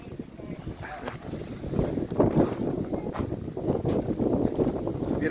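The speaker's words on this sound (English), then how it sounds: "It's very windy up here." Strong wind buffeting the microphone on an exposed hilltop near a coastal railway line, a continuous low roaring rush that swells and gusts throughout, with faint voices murmuring underneath.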